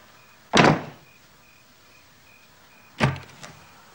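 A door shut twice: a loud, close thud with a short rattling tail, then after a pause a second slam that is slightly softer, with a faint steady tone between them.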